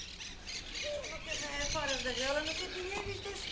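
A bird calls at Benalmádena marina in Málaga, Spain, giving a series of squawking, warbling notes over steady outdoor background noise, with people talking nearby.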